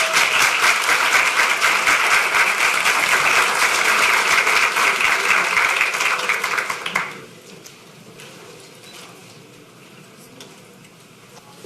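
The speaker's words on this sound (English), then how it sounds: "Let's give him a round of applause." An audience at a Houston school district event breaks into strong, dense applause that holds for about seven seconds, then cuts off abruptly into near quiet room tone.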